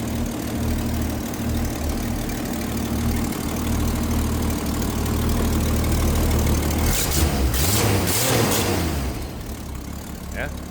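A 1964 Ford Falcon Futura convertible's engine idles with a steady low rumble, then revs sharply a couple of times before dropping back, heard close and loud.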